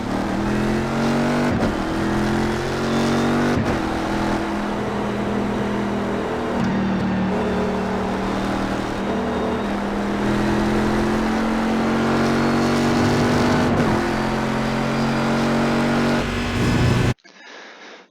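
Corvette C6R race car at full throttle around Road America in iRacing, a loud continuous engine drone with rising pitch sweeps through gearshifts and brief lifts, no talk, cutting off abruptly at the end.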